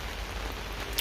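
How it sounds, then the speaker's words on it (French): Heavy rain pours steadily outdoors, a dense, even hiss of drops with no break. "il pleut des cordes"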